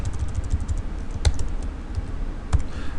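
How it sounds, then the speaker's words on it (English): Fingers type on a computer keyboard in quick, uneven bursts of close, crisp key clicks, with a few louder strikes standing out and no voices. "Just start typing away."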